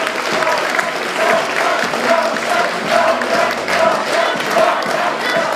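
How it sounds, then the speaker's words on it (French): An audience at a beauty pageant applauds a runner-up, producing loud, sustained clapping with scattered cheers and crowd noise that swell in waves. "On l'applaudit bien fort tout le monde"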